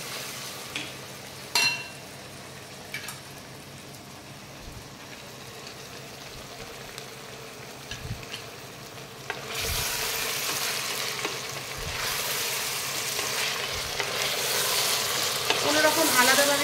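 Carrots sizzle quietly in a pan with occasional spatula knocks, then capsicum goes in and the frying swells into a louder, busier hiss with stirring.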